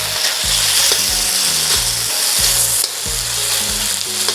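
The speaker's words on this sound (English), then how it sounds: "Give it a quick stir fry" Chicken marinated in soy sauce, pepper and cornstarch stir-fries in a hot pan for chow mein, a loud, steady sizzle broken by regular scraping strokes of the spatula, with no talking.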